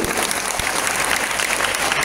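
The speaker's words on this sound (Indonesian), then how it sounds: "Tepuk tangan dulu." A crowd claps steadily throughout, a dense continuous round of applause.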